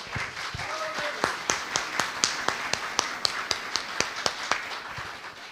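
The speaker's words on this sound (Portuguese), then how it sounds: "Você pode aplaudir o Senhor, porque eu vou." A church congregation claps in a steady, even rhythm, sharp hand claps repeating roughly five times per second at moderate volume.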